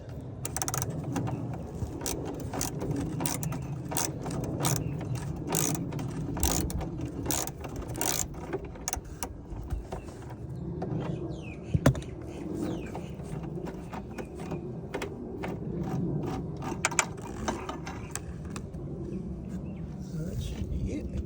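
A socket wrench ratchets in repeated rapid clicking bursts while loosening the roof rail bolts on a Mitsubishi Pajero, working up through the grab handle hole with a long socket, fairly close, with some talk in the background.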